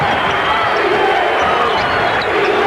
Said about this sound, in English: You hear that crowd starting to get in the game now.